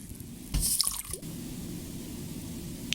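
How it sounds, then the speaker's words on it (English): Water poured out of a paper hemisphere shell for firework making, a short splashing and dripping burst near the start, then a quiet background with a faint drip at the end. "I will pour half of the water from the shell"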